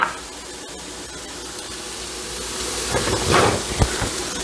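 Sliced frank pieces sizzle in a pan over a gas burner while they render out fat for franks and beans. A steady low hiss runs throughout and swells louder near the end, with a few sharper spits and pops.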